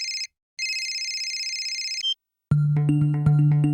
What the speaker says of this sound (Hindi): यार रजनी फोन क्यों नहीं उठा रही है?